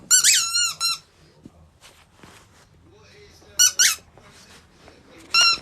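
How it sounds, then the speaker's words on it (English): A puppy plays with a squeaky dog toy at home, giving bursts of sharp, loud squeaks at the start, again in the middle and at the end, with quieter rustling and soft talk in between. "There he goes with a squeaky."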